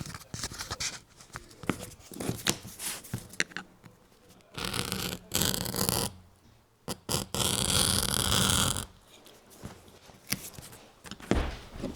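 A cheap number 3 leather edge tool with a burred blade scrapes along a leather edge in repeated rough, rasping strokes, some long and some short, close and fairly loud with no talking.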